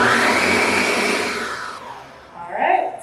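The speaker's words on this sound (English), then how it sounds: "we're just going to run the blender through this just a little bit" A blender whirring through hummus ingredients, loud and steady, then winding down and cutting off, followed by a faint voice.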